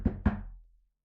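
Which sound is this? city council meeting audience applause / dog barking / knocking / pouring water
knocking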